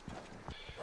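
Hooves of the horse Pegasus clip-clop in Assassin's Creed Origins, a few distinct hoof strikes at a walking pace, close and moderately loud over a soft game ambience.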